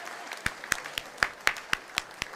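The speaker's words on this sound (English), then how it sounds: "Yeah, clap for that." Scattered, slightly irregular handclaps from a small group, about eight distinct claps standing out over a quieter background of clapping and murmur.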